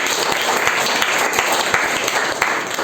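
Audience applause at a sales meeting, a few seconds of dense, loud clapping from a crowd, steady and close.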